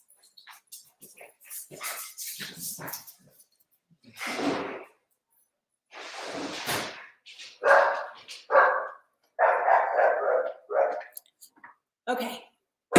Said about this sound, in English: So that is my dog